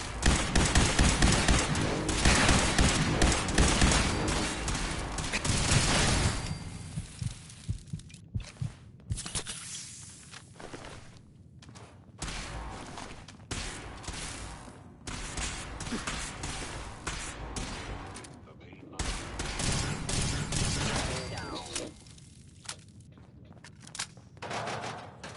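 Energy weapon shots in Fallout 4, loud crackling bursts of fire up front, then scattered single zaps and pops separated by quieter gaps, recurring in short clusters.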